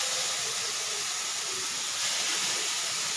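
Onion paste dropped into hot oil and frying for a fish lunch, giving a continuous hissing sizzle at moderate level with no voices over it.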